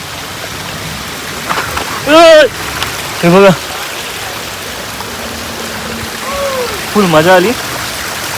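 Rainwater rushes steadily down a rocky hill trail in Mulund West after a downpour, a constant loud wash of flowing water under a few short, excited voices.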